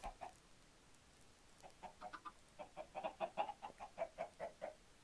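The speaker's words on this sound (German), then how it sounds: "Die hören sich an wie Hühner." Chickens cluck in the Minecraft video game, a faint series of short, quick clucks that starts sparse and becomes a steady rhythmic run, heard alone without talk.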